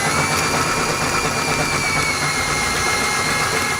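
A power drill enlarging a hole to 1/2 inch near the washer bottle on the passenger side of a 2018 Ford during a base plate install, a steady loud whirring drone without pause.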